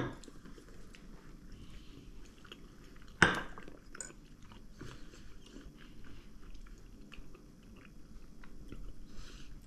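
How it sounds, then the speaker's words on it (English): Christmas cookies studded with nuts or almonds are bitten into once with a sharp, close crunch, then chewed quietly against a soft room background. "And the nuts just make it crunch."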